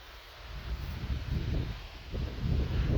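Strong, gusty wind on a cloudy day buffets the microphone in low, irregular surges with soft rustling underneath, swelling gradually louder toward the end with no voices.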